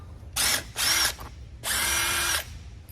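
An impact driver with a number 3 Phillips bit backs bolts out of a flip-flop pontoon boat seat, three loud, close whirring bursts, the last one longest, with no talk.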